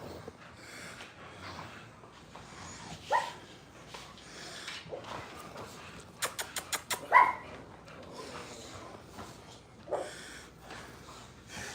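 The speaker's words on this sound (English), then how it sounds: "You guys want to see some puppies? How about, well, here's some dogs." Several dogs inside a house give short, scattered barks, snorts and soft whimpers, with a quick run of sharp yips near the middle, all fairly close over a quiet room background.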